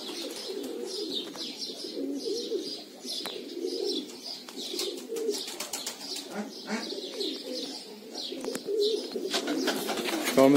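Pet pigeons coo steadily on a rooftop after landing from flight, a low continuous murmur of overlapping coos with occasional higher chirps from other birds, close and moderately loud, no talking.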